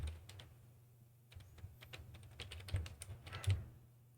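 Soft, close typing on a computer keyboard, an uneven run of quiet key taps with a brief pause partway through, alone with no voices.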